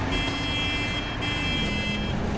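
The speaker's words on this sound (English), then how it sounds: "I forgot I can honk my horn." A vehicle horn in Battlefield 4 blares in two long steady tones with a brief gap between them, set over rumbling engine and in-game noise.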